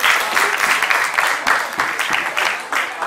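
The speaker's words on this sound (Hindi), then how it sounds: "जोरदार तालियों की गड़गड़ाहट से उनका सम्मान करें।" A seated audience at a Marwari youth forum's open session applauds a guest invited onto the stage, a dense sustained burst of many hands clapping that swells in waves, loud and near, with no talk over it.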